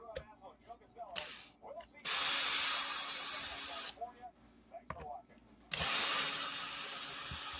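Two small screws are taken out of an Instant Pot lid, with two sustained whirring, hissing bursts of a driver separated by quieter stretches and some talk.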